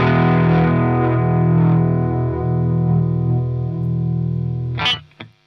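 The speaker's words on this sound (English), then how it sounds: "get an effect a bit like you would when you push a whammy bar forward." Telecaster guitar run through a Digitech Whammy DT on its shallow detune setting, a sustained distorted chord with a slight wavering, chorus-like shimmer that slowly decays, then a short pick scrape at the end, with no talk.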